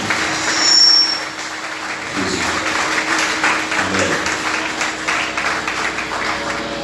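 A church congregation at a Haitian women's choir service claps together, a steady wash of mid-distance applause under faint background noise, lasting several seconds.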